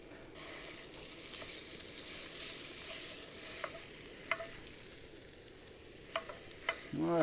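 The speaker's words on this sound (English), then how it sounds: "first thing we're going to do is brown some sausage" A pound of sausage browns in a pan on a new camp stove, giving a soft, steady sizzle with a few sharp scrape and stir clicks from a utensil. No one speaks.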